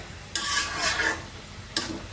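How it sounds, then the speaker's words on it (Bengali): Spinach stir-fried in a pan gives soft, faint sizzling with a few scraping stirs of a utensil against the metal, in short separate bursts. "পালং শাকটা দিয়ে দিচ্ছি এখন একটু কষিয়ে নিয়ে"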